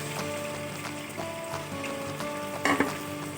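Onions fry in hot oil for a cauliflower and chicken curry, giving a continuous crackling sizzle with a few louder spatters near the end and a faint tonal hum beneath, no voices.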